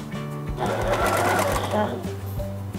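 A sewing machine runs in a steady rapid whir of stitching a sleeve hem on a child's checked two-piece outfit, with a voice talking over it.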